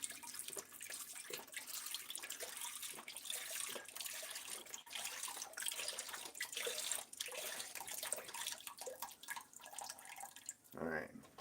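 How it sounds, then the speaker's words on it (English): Beef stock is poured into a pot for beef stew, a continuous liquid splashing and trickling that runs under someone talking, ending with a brief clatter. "we're going to go ahead and pour this beef stock in here and get that all up in there"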